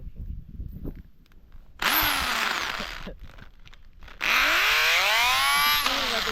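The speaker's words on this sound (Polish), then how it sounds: "Tu jest wiercona dziura, tam też." Power drill boring holes during a trike build, in two loud close bursts of whining motor that rises in pitch as it spins up, with quieter workshop shuffling between them.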